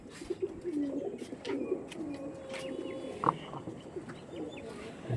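Andhra tournament-flying pigeons coo softly and steadily at close range, low throaty calls repeating over a faint background, with no voices.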